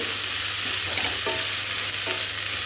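Chicken pieces for Kerala-style kondattam frying with a steady, loud sizzle in a pan while being stirred, with scraping strokes of the spoon heard at intervals over the hiss.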